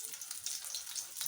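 An egg fries in a pan, giving a close, continuous crackling sizzle with no pauses.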